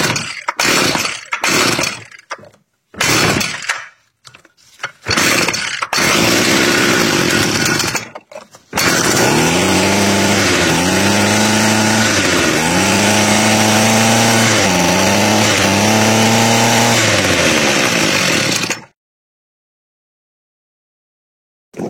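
A McCulloch B26PS brushcutter's small two-stroke engine gives several short, sputtering start attempts. It then catches and runs loud and steady with repeated revs rising and falling before it cuts off into silence.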